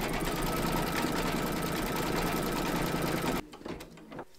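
An embroidery machine stitches a quilting round in light cream thread on an in-the-hoop crazy patch quilt block, a loud, fast, steady mechanical whirr that stops abruptly, leaving faint clicks and handling noise.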